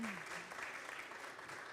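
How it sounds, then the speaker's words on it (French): A broad wash of clapping from a crowd at a trade show presentation, steady and sustained from start to finish. "On peut l'applaudir."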